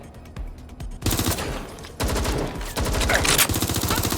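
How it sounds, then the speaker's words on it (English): Bursts of automatic gunfire in Watch Dogs: Legion, rapid, close and loud in repeated rattling volleys that grow denser, with a shouted voice mixed in. "Suspect is shooting!"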